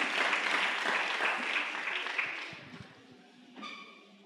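Congregation applauding at a Sunday thanksgiving church service, a dense, loud burst of clapping that fades out over a few seconds, leaving scattered claps and murmurs.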